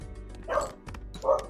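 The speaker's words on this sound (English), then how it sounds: "I'll say hello to the Ween Venus in the background, barking her head off." A small dog barks twice in quick succession, fairly faint and a little distant, with a brief pause between the yaps.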